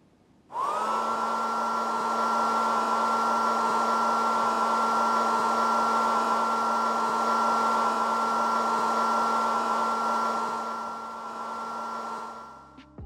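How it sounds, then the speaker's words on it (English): A bathroom hand dryer in the video game Payday 2 switches on abruptly and runs with a loud, steady blowing whine and constant hum for over ten seconds, alone, before starting to wind down. "any movement underneath the hand dryers in Payday 2 will cause them to turn on"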